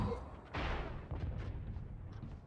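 A Raze grenade in Valorant detonates on the Split map: one sharp, loud burst that decays into a rumbling tail, followed by a few softer pops and thuds alone, with no talk.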